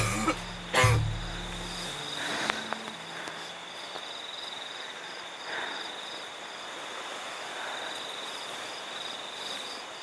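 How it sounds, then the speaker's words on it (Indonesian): A single loud cough near the start, followed by a steady hum of insects or crickets in a quiet night setting. "Waktu di rumah saya nggak mungkin bisa batuk kayak gini"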